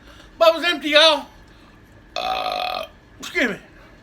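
Three loud, close burps during a fast-food fried chicken mukbang: two voiced belches around half a second to one second, a sustained droning one near the middle, and a short final burp, with quiet pauses between them.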